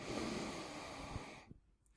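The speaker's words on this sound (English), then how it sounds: "Take a deep breath in again." A slow, deep inhalation during a guided EFT breathing exercise, a steady airy rush lasting about a second and a half before fading into near silence.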